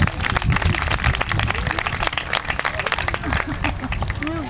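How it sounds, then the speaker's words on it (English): Crowd applause at a farming celebration, loud close clapping mixed with cheers and chatter from many people, continuous for a few seconds with uneven bursts. "everybody, give yourself a round of applause"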